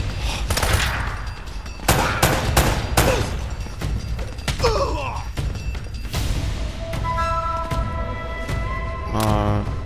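Rapid gunfire in Uncharted: Drake's Fortune, with loud bursts of pistol and rifle shots and sharp impacts crowding the scene, some clustered in quick succession, over a noisy in-game backdrop.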